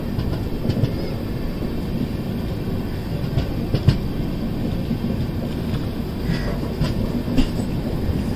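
A long passenger train of over twenty bogies rolls past near a level crossing while taking a turn, a continuous loud rumble with faint intermittent wheel clicks and squeals throughout.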